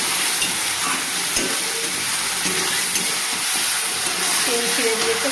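Spice masala fries in oil with soybean chunks, a loud continuous sizzle and hiss with stirring scrapes, while someone talks quietly over it.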